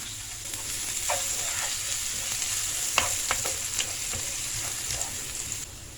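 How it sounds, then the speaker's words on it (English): Garlic and ginger frying in oil in a saucepan over low heat for a Sri Lankan young jackfruit curry, a steady close sizzle broken by repeated crackling stir scrapes. "Now I'm adding the garlic and ginger."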